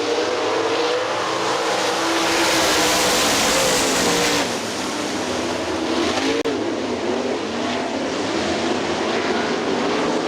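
Sprint cars roar around the dirt oval at Hartford Speedway Park, a loud continuous engine drone with rising and falling pitch as the cars pass close, filling the whole stretch.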